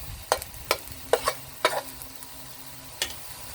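Glass noodles stir-fried with chicken and cabbage produce a soft background sizzle under several quick scraping clacks of a spatula in the pan, spaced irregularly over a few seconds.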